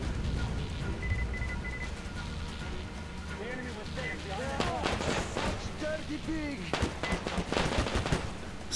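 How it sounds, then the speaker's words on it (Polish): Gunfire in Metro Exodus, scattered and fairly faint shots and bursts mixed with game sounds and voices talking over them. "Stamtąd ktoś strzela"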